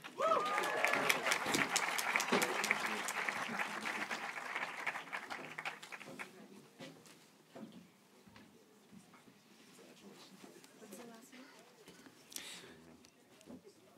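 Audience applause for the class of 2022 graduates at St. John's College Santa Fe commencement, starting as loud, crisp clapping that gradually thins and fades to a softer, scattered patter with a few distinct claps near the end.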